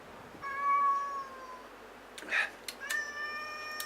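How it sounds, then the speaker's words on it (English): A house cat meows several times in the background of a quiet room, with drawn-out, rising and falling cries and a short caterwaul in the middle. The cat is moderately loud, and no one speaks. "So as you can hear, the cat's in the background again,"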